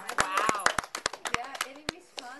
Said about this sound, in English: Can we get to clap?